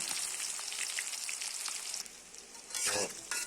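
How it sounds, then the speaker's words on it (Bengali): Onions and whole spices frying in hot oil, a loud continuous sizzle, with a bright burst of hissing near the end as the pan is stirred. No voices. "পেঁয়াজগুলো একটু লাড়ি চাড়ি দিলাম"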